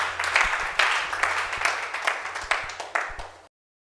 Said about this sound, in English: Can you give him a round of applause for this wonderful presentation?